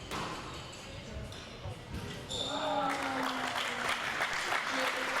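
Spectators applaud at a men's squash tournament final, starting with scattered claps and ball sounds, then swelling into louder sustained clapping as someone comments over it.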